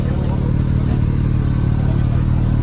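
Porsche GT4 RS engine running at a car event in Belgrade, a steady, loud mechanical drone with a dense low rumble that holds level throughout, recorded close up.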